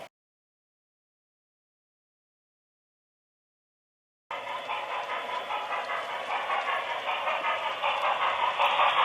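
Silence gives way to an HO scale model train starting up, a steady whirring motor with rhythmic clicking of wheels on track that grows slightly louder.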